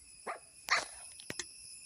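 A dog barks in a Minecraft video game: two or three short, sharp game barks separated by pauses, over a steady high ambient tone.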